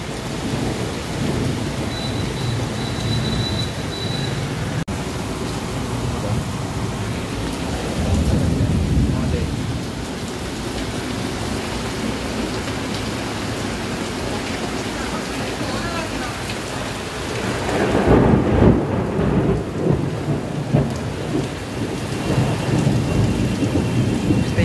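Heavy rainstorm outdoors with loud, steady rain and rolling thunder rumbling through, a louder gust of downpour late on; a voice speaks faintly at moments under the roar.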